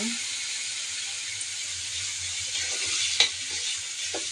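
Fish pieces sauté in a spice masala in a pan, giving a steady close hiss of frying with a brief scrape or clink near the end, no voices.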